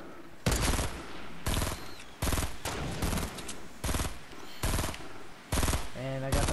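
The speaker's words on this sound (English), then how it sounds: "I'm just shooting those guys." Fortnite Battle Royale gunfire comes in loud, evenly spaced bursts of rapid shots, roughly one per second, with short pauses between them and a voice heard briefly near the end.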